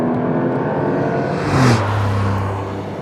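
A Porsche 911 Turbo S hybrid engine pulls hard, its steady drone rising in pitch, with a brief rushing turbo whoosh partway through before settling into a higher hum.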